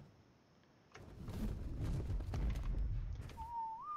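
A passive whistle command in ARK Survival Evolved sounds as a short rising-and-falling whistle near the end, following a stretch of rustling game ambience and soft footsteps, with no speech.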